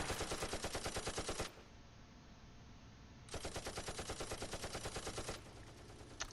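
Bursts of machine gun fire from the WWII tactical game Close Combat near Kharkov and Belgorod: a dense rapid rattle of about a second and a half, a short lull, then a second sustained two-second burst, loud and close, with no talk.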